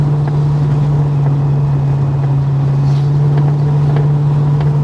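A Holden HK car with freshly aligned wheels and two new front tyres drives on its first run in months, its engine a steady, loud, low drone from inside the cabin with road rumble and wind noise, no talk.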